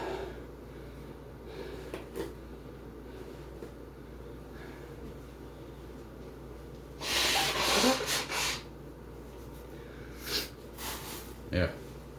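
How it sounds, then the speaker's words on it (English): Someone blows their nose in a quiet room between lightsaber drills, a loud wet burst lasting about a second, followed by a few shorter sniffs and snorts. "I do have to blow my nose again."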